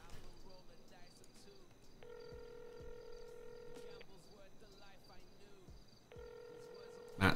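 Telephone dialing inside a GTA roleplay game, with steady electronic ringback tones in long, repeated bursts separated by gaps over a low game background, with people talking quietly in places.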